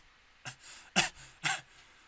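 Three short, harsh coughs or throat-clearings from one person close to the microphone, evenly spaced about half a second apart in otherwise quiet surroundings.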